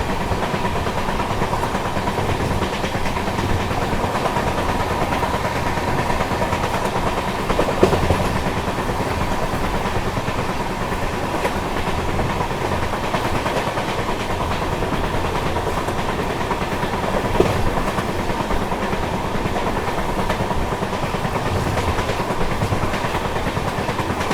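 The 12809 Howrah Mail passenger train runs steadily between Nagpur and Howrah, with a continuous rumble and rattle of the carriages heard from on board, plus a couple of faint clicks along the track. No one speaks.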